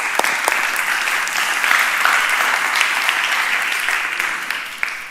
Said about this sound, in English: we give one more applause